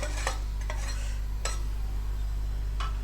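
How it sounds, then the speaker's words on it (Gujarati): A spoon stirs poppy seeds into a jaggery chikki mixture, giving a few soft, brief scraping strokes spaced apart over a steady low background hum. "ખસખસ પણ એડ કરી દઈશું અને પાછું ફરીથી હલાવી દઈશું"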